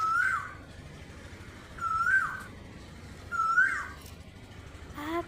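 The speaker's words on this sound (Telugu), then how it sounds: "కోకిల పాట పడుతుంది" An Asian koel sings in the morning, giving three clear rising calls at a steady pace over a quiet background, then starting a fourth.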